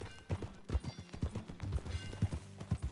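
Horse hooves clip-clop at a steady walking rhythm in the video game Red Dead, a run of fairly soft, close thuds with no talking.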